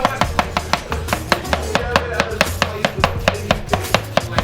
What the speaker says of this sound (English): I'm gonna cut this onion really fast